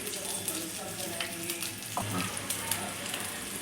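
Spice masala of turmeric, coriander powder, garam masala and black masala frying for dhaba-style egg curry, a soft, continuous sizzle with occasional stirring sounds, fairly quiet and close.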